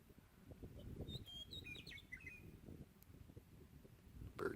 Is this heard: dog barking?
no